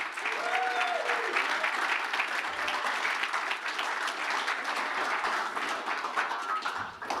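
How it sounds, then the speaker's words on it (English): A conference audience applauds, a dense, steady wash of clapping that holds at full strength for several seconds before tapering at the end, with faint voices mixed in. "Big round of applause to Tonda and the team"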